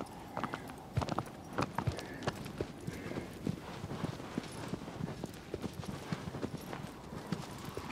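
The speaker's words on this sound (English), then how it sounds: "So I'll jump on this horse again." A horse's hooves clip-clop in steady rhythmic beats as it moves across the ground in the video game Shadow of the Colossus, fairly quiet with no talk over it.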